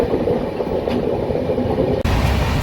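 The Mysore Superfast Express rumbles loudly around a curve on the Chennai Central to KSR Bangalore line, a dense, close, continuous roar of wheels and carriages with a brief sharp jolt near the end.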